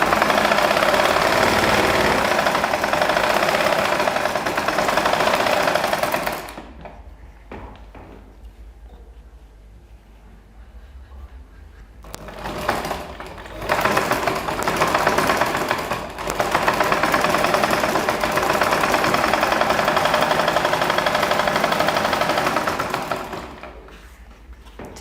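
A sewing machine stitches straight lines in loud, steady mechanical runs, stopping for a quiet pause of several seconds midway, with brief restarts before resuming a long continuous whir that trails off at the end.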